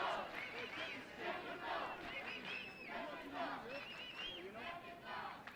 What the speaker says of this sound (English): And now the crowd starts to get involved.